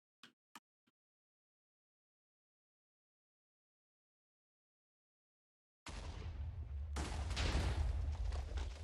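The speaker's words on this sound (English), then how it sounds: "you will notice that we will not get quite as big of an explosion at all." A large TNT missile explosion in a video game: a few faint clicks, a long silence, then a sudden loud booming blast that swells into a sustained crackling rumble of chained detonations.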